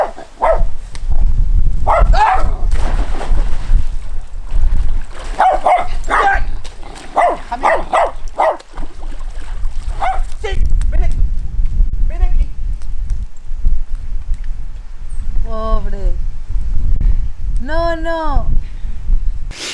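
A dog barks several times amid loud talking voices, its short sharp barks and whines coming close and recurring throughout, mixed with other animal-like cries near the end.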